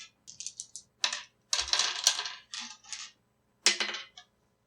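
Seven dice rattling and clattering across a surface for a tabletop role-playing game, in several quick sharp bursts of tumbling clicks with short silent gaps between, close and clear, with no speech.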